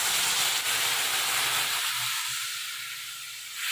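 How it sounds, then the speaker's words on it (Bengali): Water is poured into a hot pan of pabda fish curry with mustard paste in a village kitchen. It sets off a loud, broad steaming hiss that slowly fades, with a low bubbling underneath. "জল দেওয়ার সাথে সাথে ফোটা শুরু হয়ে গেছে"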